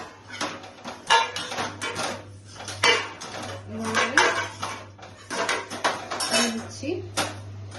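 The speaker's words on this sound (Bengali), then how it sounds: "তাহলে আমার ডিমগুলো সিদ্ধ হয়ে গেছে, আমি এখন তুলে নিচ্ছি।" Eggs are lifted out of a pot after boiling for a dhaba-style egg curry, with repeated metallic clinks and scrapes of utensils against the pot, close and fairly loud, over a steady low hum and some talk.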